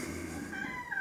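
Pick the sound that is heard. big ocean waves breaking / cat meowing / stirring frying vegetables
cat meowing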